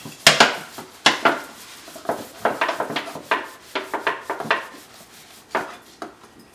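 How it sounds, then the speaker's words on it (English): A two-year-old washes dishes, with ceramic dishes and cutlery clinking and knocking in an irregular series of sharp clatters, close by and without talk. "Are you washing the dishes?"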